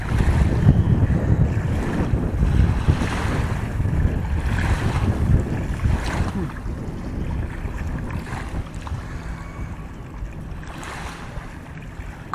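Water waves rising and breaking continuously at Tatapani near Shimla, a steady broadband wash with wind buffeting the microphone, fairly loud throughout and gradually easing.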